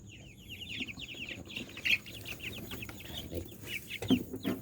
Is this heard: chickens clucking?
yes